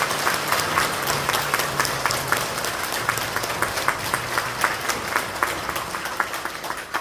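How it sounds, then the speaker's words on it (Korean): A church congregation claps together at a pastor's installation and retirement service, a dense, steady wave of applause from many hands filling the hall for several seconds with no voices over it. "박수 한번 합시다."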